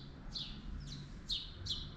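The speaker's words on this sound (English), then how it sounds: "can you hear the birds?" Birds in a courtyard in Salento, Puglia give several short, high chirps repeated at an uneven pace, fairly faint over a low background rumble.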